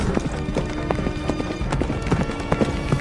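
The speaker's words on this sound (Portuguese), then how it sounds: "O som dos cascos dos cavalos corta a noite." Horse hooves clop in a steady, dense rhythm at night in heavy rain, several horses close and loud, with faint whinnies among them and no speech.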